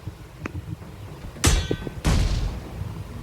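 Explosions in a fast-paced online shooter match, two loud broadband blasts about half a second apart, each with a roaring decay, following a few faint sharp clicks.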